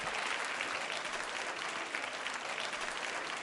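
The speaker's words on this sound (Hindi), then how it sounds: "तालियां जोरों से बजाइए।" An audience at a tourism quiz show applauds a correct answer with steady, dense clapping that fills the room evenly from start to end.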